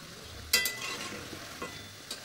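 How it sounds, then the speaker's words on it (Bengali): Fried pitha cake being stirred in hot oil makes a faint sizzle with a sharp clatter of stirring near the start and a few softer scrapes after. "এখন একটু লাল লাল করে ভাজা ভাজা হবে।"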